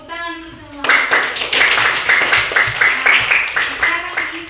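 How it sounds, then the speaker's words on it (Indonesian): A primary school class claps together in a classroom, a burst of rapid, uneven clapping lasting several seconds after a brief spoken voice at the start. "Oke, tepuk tangan dulu semua"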